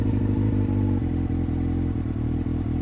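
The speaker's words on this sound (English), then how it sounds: "Hear the engine lower its RPM." A motorcycle engine idles with a steady low thumping beat as the clutch is let out and the revs sag slightly, close and clear, with no talk over it.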